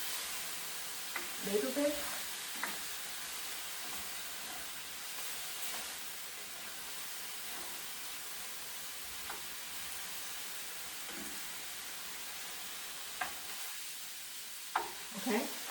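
Broccoli beef sizzles in a hot pan while being stirred, a constant soft frying hiss with occasional scraping clinks of the utensil, and a voice speaks briefly.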